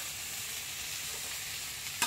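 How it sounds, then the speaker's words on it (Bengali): Sliced bitter gourd, potato and egg fry together in a pan over a home wood-fired clay stove, giving a faint, steady sizzle with a soft stir near the end. "এই দেখো উচ্ছে আলু ভাজা আর হচ্ছে ডিম ভাজা"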